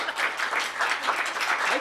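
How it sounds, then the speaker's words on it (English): Live applause from a small audience at a recorded show in Albany, New York, a modest, steady patter of clapping that continues throughout, with voices faint in the background. "live applause"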